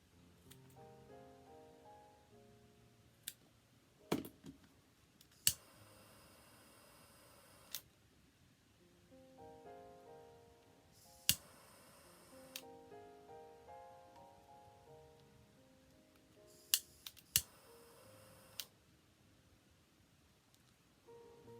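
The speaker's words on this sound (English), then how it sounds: "let's just snip those off for the moment" Scissors snip the ends of paracord while a Marvin figure is being made, with a few sharp, quiet, close clicks spaced irregularly among soft handling rustles and brief rushes of sound, and no talking.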